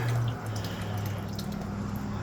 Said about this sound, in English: It just, relieves the water out of there, which sometimes it gets a little too full